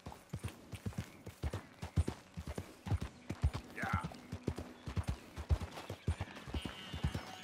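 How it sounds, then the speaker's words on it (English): Rhythmic horse hoofbeats clip-clop along at a steady pace in Red Dead Redemption 2, fairly close, with a brief whinny partway through and some light game sounds around them. "let's end this off with a nice little horse ride"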